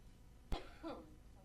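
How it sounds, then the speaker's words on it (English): A single sharp cough at a city council meeting, followed by a brief rough throat-clearing sound, fairly faint and close. "Can't get rid of this cough."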